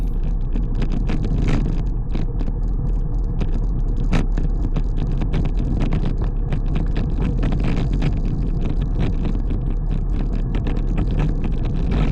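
Car engine roaring loud and continuous close to the microphone as the driver accelerates through traffic, a dense steady rumble with wind buffeting and no pauses.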